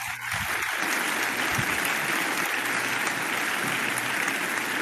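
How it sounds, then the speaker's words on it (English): An audience applauds a guest speaker, Dr. Faith Villanueva, at a morning medical lecture: steady, dense clapping from a full room that holds at an even loudness for the whole stretch, with no voices over it. "Let's give her a round of applause."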